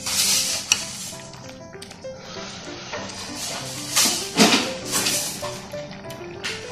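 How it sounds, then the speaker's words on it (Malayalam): Fried okra is dropped into a simmering lentil dal curry, setting off bursts of sizzling and bubbling with occasional pan clatter, close up and uneven in loudness. "നമ്മളെ ഫ്രൈ ചെയ്ത് വെച്ചിരിക്കുന്ന വെണ്ടക്ക അതിലേക്ക് ഇട്ടു കൊടുക്കാം."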